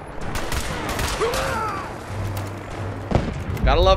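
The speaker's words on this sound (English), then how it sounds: "Gotta love pistols." Pistol shots in Fallout 4 crack through busy game combat sounds, a few sharp reports spread across a short stretch with someone talking over them.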